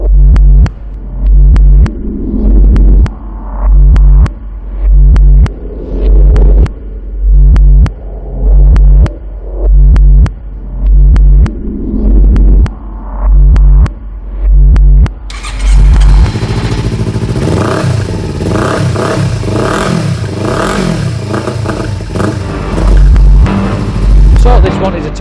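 A 2015 Kawasaki Z300 ABS motorcycle engine sits close by, first blipped in a steady series of short revs, then held at a loud, continuous high-revving roar with a throbbing edge.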